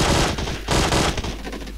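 Dense, loud automatic gunfire bursts from a shootout in PUBG Mobile, rapid rattling shots filling the whole moment with brief gaps and no talk.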